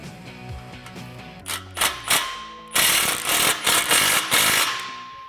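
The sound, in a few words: ratchet with 15mm socket tightening exhaust clamp bolt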